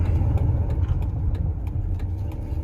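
A 1999 second-generation Dodge Ram pickup idles after coming to a stop with the clutch pressed, a low, steady engine rumble with slight unevenness and no talking.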